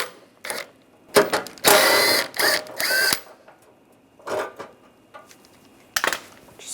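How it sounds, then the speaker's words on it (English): A power ratchet with a 10mm socket removes bracket bolts during radiator work on a 2010-2016 Cadillac SRX, several sharp, close whirring bursts with gaps of quiet between them. "Take these out with a 10mm socket"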